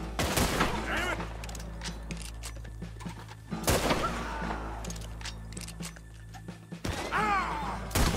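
Gunfire in the game Red Dead Redemption 2, with three heavy shots spaced a few seconds apart over a steady low hum and scattered small mechanical clicks and thuds, and a voice briefly in the mix.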